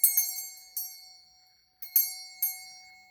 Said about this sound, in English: Stop ringing that damn bell.